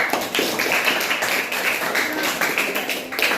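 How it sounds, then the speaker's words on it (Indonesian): A classroom of students claps for a presenting group, a steady crowd of hand claps running for a few seconds at moderate loudness with no talk over it. "Ya, tepuk tangan untuk kelompok Elang Perkasa."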